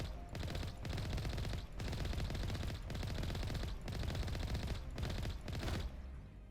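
Sustained automatic gunfire in Mass Effect, fired at the Mako rover, comes as loud continuous bursts broken by several brief pauses.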